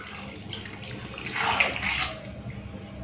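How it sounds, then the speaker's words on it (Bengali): A little water poured into a curry as it cooks, a single soft splashing pour that swells briefly in the middle and fades, heard close with no voices. "আর একটুখানি জল দিয়ে দিচ্ছি।"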